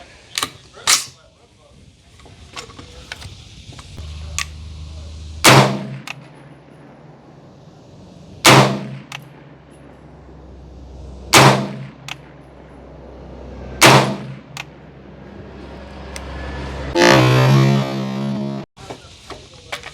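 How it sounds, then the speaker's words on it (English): Rifle shots from a budget 300 Blackout fired at 25 yards on an outdoor range: five loud, sharp reports spaced a few seconds apart, followed by a longer burst of harsh noise near the end. "Let's get a couple shots at 25 yards and see how this thing shoots."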